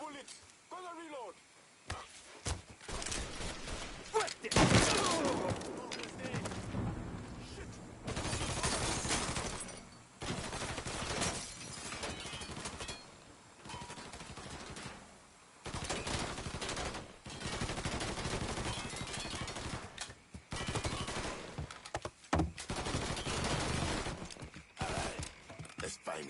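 Bursts of video game gunfire crackle and pop in irregular clusters, mixed with action effects, while voices talk over the shooting throughout.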